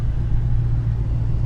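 A 426 Whipple-supercharged Hemi engine idles rough at low throttle, a steady deep rumble with uneven low pulsing, close and continuous with no voices.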